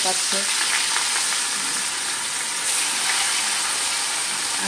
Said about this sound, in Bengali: দুটো করে ভাজবো, একসাথে দিলে না তো একদম জড়াজড়ি হয়ে যাবে